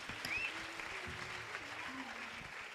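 Sustained clapping from a church worship audience greets the musicians after a gospel song, a steady dense patter lasting the whole stretch with a faint voice and a little music underneath.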